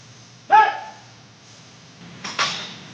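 A dog gives a single sharp bark close by, then a second, rougher bark or yip comes a couple of seconds later over a low background rumble.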